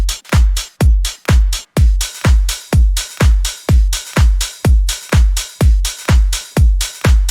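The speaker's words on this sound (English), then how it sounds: "Now to spice things up, I've added a 909 open hat" Roland 909-style open hi-hat pattern in a house track, crisp hats alternating in a double-single groove over punchy kick thumps, loud and steady, with no voices.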